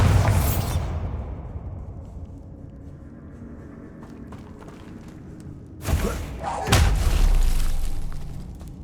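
Bombarda blasting spell from Hogwarts Legacy, a booming burst at the very start that fades, followed by two more heavy thuds near the end over a rumbling game background.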